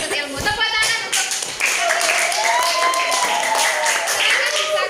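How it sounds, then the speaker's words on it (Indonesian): A classroom group of students clapping after a group discussion, a burst of hand claps mixed with chatter and voices from the room, fairly loud and close throughout. "Tepuk tangan untuk"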